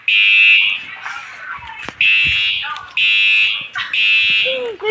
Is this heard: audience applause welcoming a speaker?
no